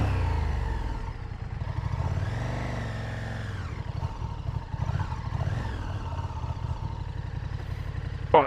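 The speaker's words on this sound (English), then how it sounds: "Yeah, there's a really nice bark from the engine." A 2020 KTM Super Duke R's exhaust barks as the motorcycle is ridden, with a throbbing engine note that rises and falls through several revs and stays close and fairly loud throughout.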